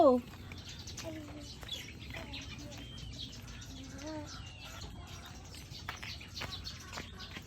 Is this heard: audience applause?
no